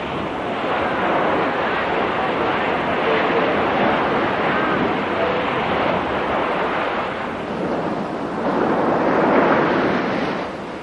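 Rough ocean waves break around shallow-draft fishing boats off the Malabar coast, a loud, continuous roar of surf and wind noise that swells slightly near the end.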